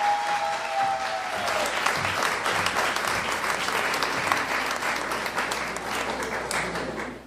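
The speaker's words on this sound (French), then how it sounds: "On va applaudir Angela Elisabeth Vital." Audience at the Miss Haiti 2022 grand final pageant applauding a contestant, sustained loud clapping from a large crowd filling the hall, with a brief voice at the start.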